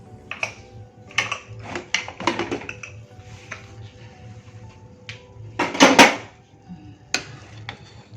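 Metal utensils clink and scrape against a pot as cooked green moong dal is transferred into it, a series of sharp knocks with one louder clatter midway; no one speaks.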